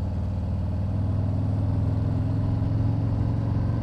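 A 2020 Harley-Davidson Street Glide V-twin engine runs steadily and close up, a loud, low, continuous throb with a lumpy pulsing rhythm and no talking over it.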